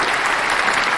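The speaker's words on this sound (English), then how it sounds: "Round of applause for rocket penis." Audience applause for a comedy riff, a dense burst of many hands clapping loudly and close, filling the whole moment without any talk.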